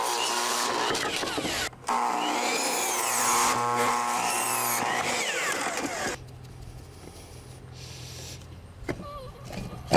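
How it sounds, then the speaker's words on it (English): Power tool cutting 2x4 wood boards for a DIY bench, a loud continuous whining cut with shifting pitch, a brief pause, then a steadier lower run of tool noise with small knocks near the end. "So while I'm cutting this, I might as well cut the other side too."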